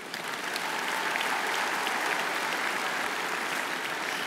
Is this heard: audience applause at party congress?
yes